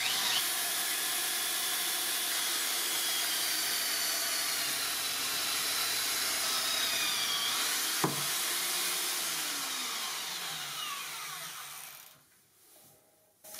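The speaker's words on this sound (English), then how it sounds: "But I want to give the Scotch-Brite belt a go" Scotch-Brite belt running on a belt grinder while sanding a sword blade, a steady loud broadband hiss that holds for about eleven seconds with a sharp tick near the eighth second, then winds down and drops away near the end.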